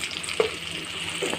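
Spices with turmeric and Kashmiri red chili powder stirred in a hot frying pan for elephant apple pickle, giving a low steady sizzle with a couple of faint spatula taps and no talk.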